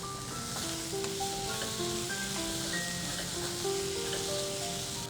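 A chili powder and rice mixture cooking in a pan on a medium flame, giving a steady close sizzle with occasional soft stirring scrapes throughout, no speech.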